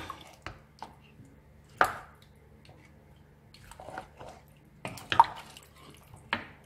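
Beef being mixed by hand with added water gives wet, squishy, dripping sounds. Several soft squelches and splats come at irregular intervals against near silence.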